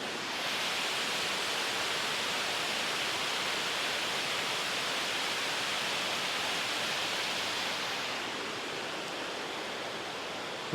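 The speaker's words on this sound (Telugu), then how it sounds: "వాటర్ సౌండ్ వినిపిస్తుందండి." Water from the opened gates of the Yeleru reservoir dam at Yeleswaram roars in a loud, continuous broadband rush, steady and close, with no one speaking.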